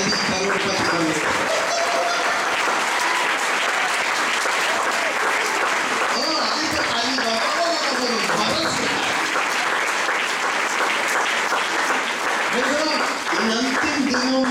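A church congregation claps loudly and steadily throughout, a dense continuous wave of applause with scattered voices and cheers rising within it.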